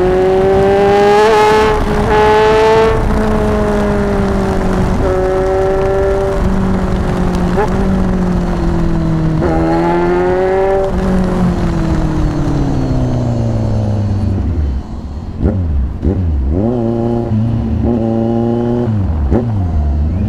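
Kawasaki Z1000 with an SC-Project 61mm exhaust and a remap, loud and close, revving continuously with rising and falling engine pitch and sharp blips near the end.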